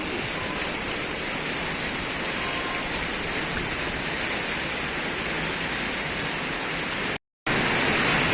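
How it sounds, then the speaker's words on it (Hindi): Heavy rain pours down in Lucknow, heard from a rickshaw as a loud, dense, unbroken roar that cuts out for a moment near the end. "और आप देख सकते हैं बारिश काफ़ी तेज़ होने लगी है।"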